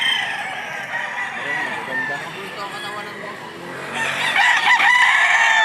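A rooster at a chicken sale crows loudly near the end, with clucking fowl and people talking over the stalls throughout.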